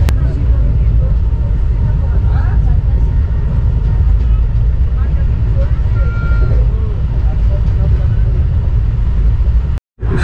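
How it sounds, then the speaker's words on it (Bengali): The Jammu Tawi–Kolkata Express (13152) runs at about 120–130 km/h through the hills of Bihar, giving a loud, steady rolling rumble from inside the train with faint voices beneath it, cut by a brief drop near the end. "এখন প্রায় 120-130 স্পিডে ট্রেনটা চলছে"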